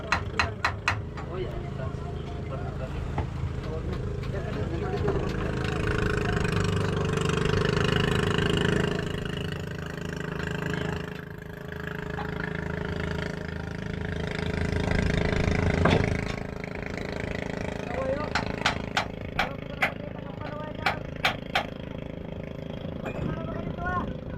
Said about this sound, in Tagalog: At paandarin lang muna natin itong ating makina.